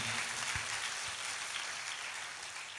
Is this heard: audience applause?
yes